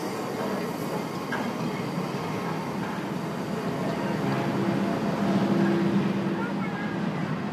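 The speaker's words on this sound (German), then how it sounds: "Die Abfahrt einer Dampflok ist in Japan durchaus ein Spektakel." Hitoyoshi steam locomotive train departing in Kyushu, Japan: a steady, broad rumble of rolling rail cars with faint hissing and clanking, sustained and moderately loud, swelling slightly toward the end.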